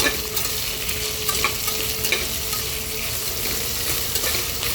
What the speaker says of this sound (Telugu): అలాగే బంగాళదుంప ముక్కలు పచ్చి బఠానీ వేసేసి శుభ్రంగా ఒకసారి కలిపేసుకోవాలి